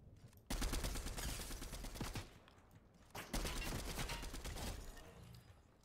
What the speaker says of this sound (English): he's literally shooting at me